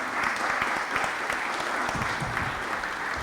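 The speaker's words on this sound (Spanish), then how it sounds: "un aplauso de verdad" Applause from an audience at a Spanish-language conference session on national and international regulation, a steady, dense clapping heard close and fairly loud throughout without any voices.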